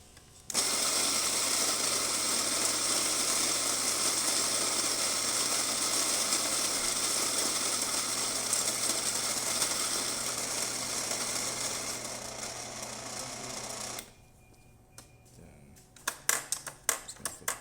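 A serviced Rancilio Rocky coffee grinder with freshly recalibrated burrs grinds beans in a loud, steady whirring drone for about fourteen seconds, then cuts off, followed by a few quiet clicks and clatter.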